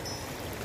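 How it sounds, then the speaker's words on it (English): Filtered water from a soya-based filter pours steadily into a bottle outdoors beside a mountain stream, a continuous close trickling wash with no talk. "Collecting filtered water in our bottle."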